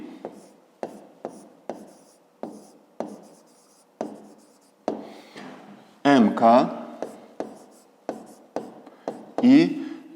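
A pen scratches across paper while someone works a fifth-grade geometry exercise, making short separate strokes at an irregular pace, close and clear, with a couple of brief voice fragments in between.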